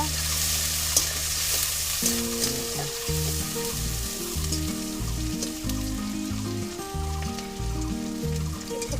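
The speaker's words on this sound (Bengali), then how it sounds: "তাহলে এবার দিয়ে দেবো পেঁয়াজ দিয়ে একটু নাড়াচাড়া করবো" Chopped onions sizzle steadily in hot oil in a pan for a Bengali taro-stolon and fish curry, a constant crackling hiss broken by rhythmic scraping strokes of a spatula stirring them, close and fairly loud.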